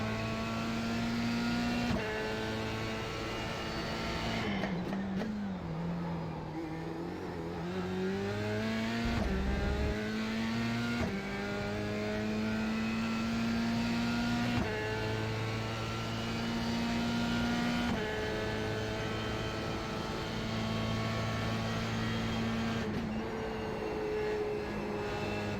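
FIA Formula 3 race car at Suzuka in the iRacing video game, a loud, continuous high-pitched engine whine rising through gears and dipping briefly under braking, sustained with no voices.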